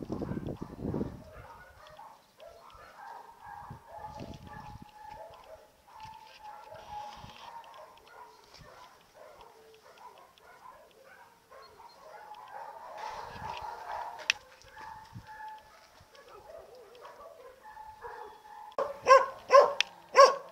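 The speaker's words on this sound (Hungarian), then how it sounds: "akkor még így ugat." A shelter dog barks in scattered bursts over about twenty seconds, with other faint animal and bird sounds in the background. The barking grows louder and sharper toward the end.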